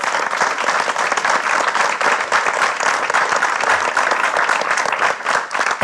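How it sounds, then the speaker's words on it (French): Dense, sustained applause from a conference audience fills the whole stretch, loud and steady with many overlapping claps and no pauses. "je crois qu'on peut l'applaudir"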